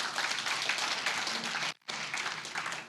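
A church congregation applauds in steady, dense clapping that fills the space, breaking off for a brief moment before resuming just as full.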